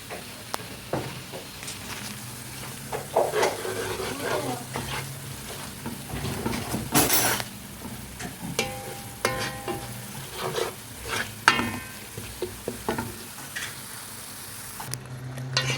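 Red pepper and potatoes frying in a home kitchen pan while being stirred, a steady sizzle under scattered scrapes and utensil clicks, close and moderately loud, with a brief louder burst midway.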